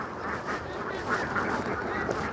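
Ducks on a family duck farm in Laos, a dense, continuous chorus of quacking close by, with overlapping calls and no pauses.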